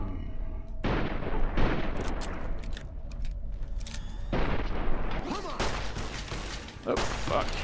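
Gunfire in the video game Fallout: New Vegas cracks out in bursts of rapid shots and booms, two dense volleys separated by a short lull, with a voice talking over the action.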